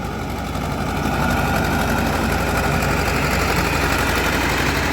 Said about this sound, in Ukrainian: Трактор з пробуксовкою